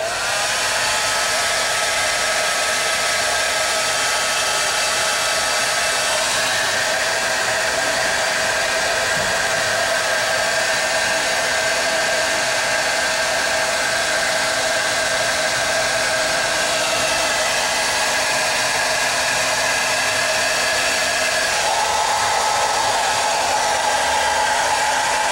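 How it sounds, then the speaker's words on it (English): Heat gun blowing steadily on the pulled clay handle of a large thrown pottery jar, a loud continuous hot-air whoosh with a constant motor whine and a slight shift in pitch partway through, with no talk. "then we're going to do the old heat gun routine real quick"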